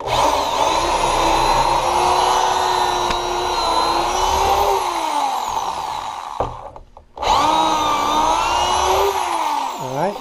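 A drill bores pocket holes into wood held in a pocket hole jig, whining loud and close with pitch dipping under load, cutting out briefly, then spinning up again for a second run.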